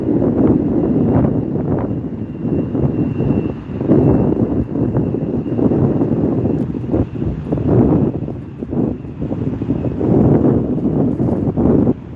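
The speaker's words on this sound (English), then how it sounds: "Here we have an Alaska Embraer 175." An Alaska Airlines Embraer 175 jet rumbles at an airport, a loud continuous engine roar mixed with gusty wind buffeting the microphone, with no talking.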